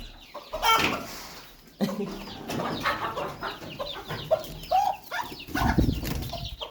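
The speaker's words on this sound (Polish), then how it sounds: "zaraz wam pokażę te kurczaki" Chickens cluck and squawk up close in a run of overlapping calls during morning chores, with rustling and movement around them.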